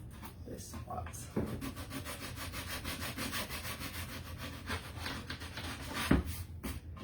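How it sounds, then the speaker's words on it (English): Hand sanding of a wooden sign produces a continuous close rasping rub with quick back-and-forth strokes, steady throughout, with a sharper bump near the end. "It's hard to sand these spots."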